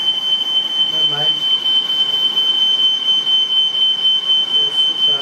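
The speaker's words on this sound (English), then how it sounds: "I've set the fire alarm off." A smoke alarm sounds a piercing, high-pitched tone that pulses continuously and loudly throughout.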